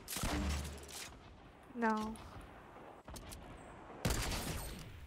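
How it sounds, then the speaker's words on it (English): Gunfire in the video game Fortnite comes in rapid bursts at the start and again near the end, with sharp clattering shots separated by a quieter stretch, while a player speaks briefly between them. "Is someone shooting us?"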